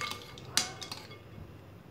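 Custard sharbat with ice and basil seeds is stirred in a glass, giving a few faint clinks and taps of utensil against glass and ice over a quiet background.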